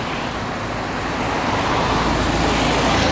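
Steady traffic of cars passing along a city avenue, Nereu Ramos in Fortaleza, a continuous loud broadband roar of engines and tyres that swells slightly toward the end.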